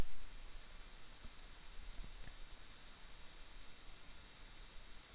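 Several faint, sharp computer mouse clicks at close range, scattered over a quiet hiss with no voices while a web project is navigated to select files.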